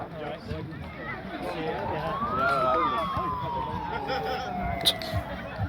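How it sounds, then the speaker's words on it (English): A full-time siren wails in the distance at a football match, rising then slowly falling in pitch, over crowd chatter and shouts from the sports ground. "Siren's going off."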